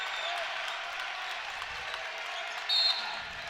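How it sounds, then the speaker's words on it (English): A crowd cheers and applauds at a boys' high school basketball game between Little Chute and Wrightstown, a continuous, fairly distant roar filling the gym. "Crowd really getting into it now."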